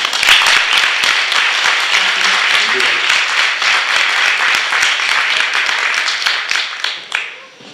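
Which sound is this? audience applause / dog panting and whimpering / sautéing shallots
audience applause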